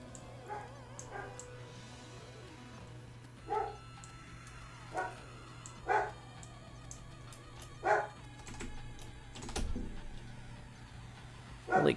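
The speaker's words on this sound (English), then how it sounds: "Sorry if you can hear my puppy barking." A puppy barks in short, sharp yips every second or two, fairly faint and somewhat distant, over a steady hum of game music and effects.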